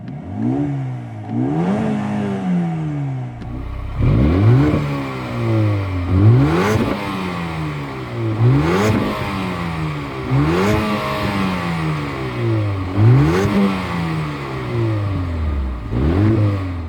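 A Mercedes-AMG A35 engine revs repeatedly, rising and falling in a steady cycle of loud, close bursts with intake noise and no one speaking.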